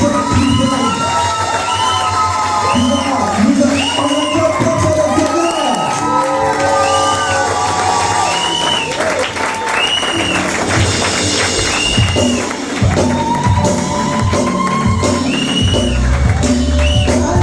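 Church congregation at a Mother's Day service cheering loudly, with shouts, whoops, ululating voices and clapping forming a continuous, near, energetic roar that lasts throughout.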